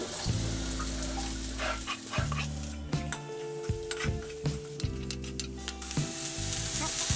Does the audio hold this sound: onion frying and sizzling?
yes